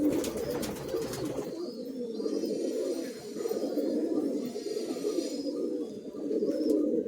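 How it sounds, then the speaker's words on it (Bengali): Andhra pigeons coo softly in low, throaty murmurs, several overlapping calls continuing throughout, with faint chirps in the background. "এগুলো আন্ধ্রা পায়রা"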